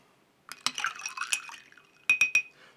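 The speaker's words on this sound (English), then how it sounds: "So let's give that a little stir." A spoon stirring a Kahlua espresso cocktail in a glass, two bursts of close clinks and liquid swirls separated by a short pause, the last few taps sharp and ringing.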